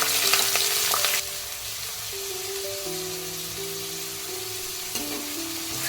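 Sliced onions hit hot oil with fried garam masala and Guntur chillies for a chicken dahi dum biryani, bursting into a loud broadband sizzle that settles into a steady close frying hiss, with faint background tones and a brief clatter near the end.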